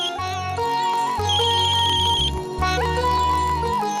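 A phone ringtone plays as a steady melodic electronic tune with bright sustained tones over a repeating low pulse, loud and continuous, in a home kitchen while someone cooks.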